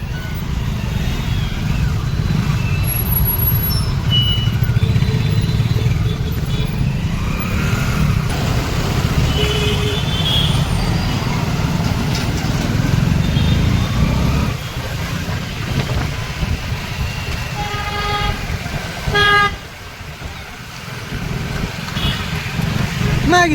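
Steady engine rumble and road noise heard from a delivery rider's motorcycle moving through dense city traffic under a cloudy sky, with passing vehicles mixed in and a muffled voice at times.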